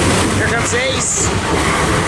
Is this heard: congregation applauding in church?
no